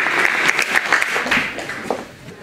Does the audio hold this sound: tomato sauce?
no